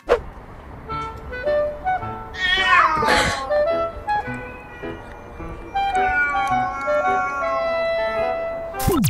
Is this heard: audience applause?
no